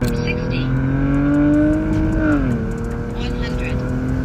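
Tuned car with a straight-through AMG exhaust, downpipe and Stage 2 tune rated at about 430 horsepower revs up loudly nearby, the engine note climbing and then dropping back to a steady idle.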